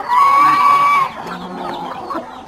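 Chickens on a farm give one loud, drawn-out call, followed by softer scattered clucking in the background.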